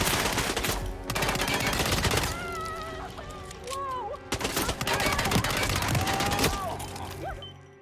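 Video game gunfire, with loud bursts of rapid machine-gun fire broken by short pauses, while warbling whistle-like electronic tones drift through the gaps.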